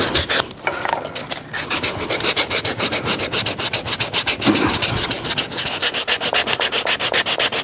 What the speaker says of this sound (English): Let's just go back and we'll try it with the sandpaper. See if we can just sand it off.